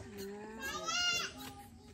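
A goat bleats once in a wavering, drawn-out cry, fairly near, with faint voices around it.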